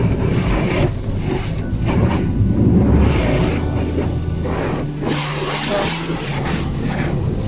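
High-pressure water spray hisses against a car in a Dubai car wash, loud and close, in repeated bursts of rushing spray with a low machinery rumble underneath.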